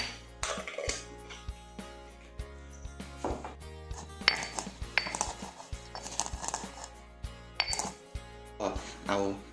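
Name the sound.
pounding white peppercorns in a mortar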